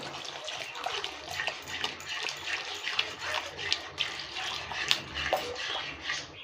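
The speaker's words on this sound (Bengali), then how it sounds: "বাটির মধ্যে 1 চামচ কর্নফ্লাওয়ার নিয়েছি আর জল নিয়েছি, পাতলা করে গুলে নিয়েছি, এটা দিয়ে দেবো" A thin cornflour-and-water slurry pours into boiling gravy for a village-style chilli soybean dish, giving a continuous watery splash and bubbling with small clinks. The sound is moderately loud and has no speech over it.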